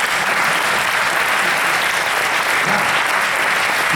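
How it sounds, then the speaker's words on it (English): A room full of listeners at a Jain spiritual session keeps clapping in sustained, uniform applause, a thick continuous patter of many hands with no talking on top. "Is this how you clap with full potential?"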